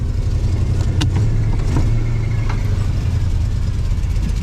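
A 1982 Ford F-150 pickup engine runs at high RPM, a loud steady close-up drone with a few brief sharper bursts, holding revs evenly throughout.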